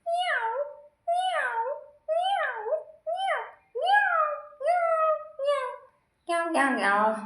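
A cat meows again and again, about eight drawn-out, evenly spaced cries, close and loud, closing on a rougher, more strained call.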